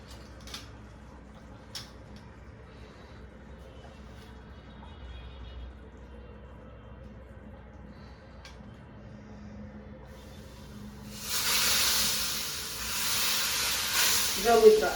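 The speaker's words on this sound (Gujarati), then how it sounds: "આ રીતના વઘાર કરવાનો તમારે." Spices hit hot oil for a pav bhaji tempering and set off a sudden loud, hissing sizzle after a long quiet stretch of faint kitchen clatter. The sputtering crackle runs close by until the end.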